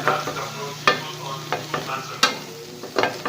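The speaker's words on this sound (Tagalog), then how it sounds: "sangahin ko muna po ang hipon" Shrimp sautéing in a pan, a steady close sizzle broken by sharp scraping stirs of a utensil at irregular intervals.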